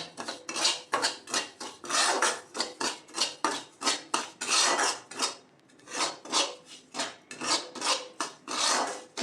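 Semolina roasted in ghee in a pan for sheera is stirred with a metal spoon, giving continuous close scraping and rasping strokes in a brisk, steady rhythm.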